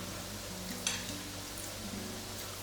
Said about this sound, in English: that's my 3 minutes on one side for the other kebabs that I'm frying